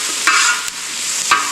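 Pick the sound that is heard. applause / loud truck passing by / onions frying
onions frying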